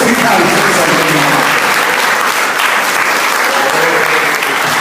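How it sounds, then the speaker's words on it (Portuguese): Loud, dense applause from a large church congregation during a service, sustained and even throughout, with no pauses. "Vamos dar uma aplauso a Deus."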